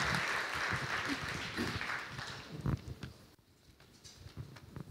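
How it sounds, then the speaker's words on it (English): Church congregation clapping as an offering to the Lord while standing, a dense burst of applause that gradually fades, then scattered claps and a voice near the end. "Let's give the Lord a clap offering as we stand."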